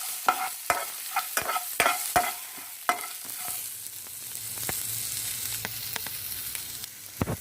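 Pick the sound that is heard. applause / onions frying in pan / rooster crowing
onions frying in pan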